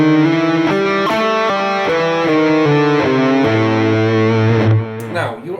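Electric guitar with distortion plays an A blues scale including the flat fifth, stepping through individual notes at an even pace and ending on a sustained low note, close and loud with no talking.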